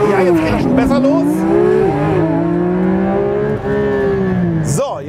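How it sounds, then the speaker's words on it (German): Porsche 911 GT3 RS launching hard under launch control, its engine note climbing steadily in a loud, continuous rising roar with a brief shift dip near the end; people talk over it. "Launch Control müsste automatisch aktiviert werden, wenn ich auf die Bremse gehe und dann beschleunige"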